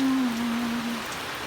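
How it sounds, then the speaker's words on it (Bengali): Heavy monsoon rain pouring down in the city of Chattogram, a steady, soft hiss of falling water with a faint tone fading out early. "শুরু হয়েছে বৃষ্টি আষাঢ় মাসে, হচ্ছে তো হচ্ছে, থামার কোনো লক্ষণই নেই"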